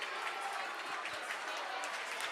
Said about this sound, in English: Boy, listen to this crowd.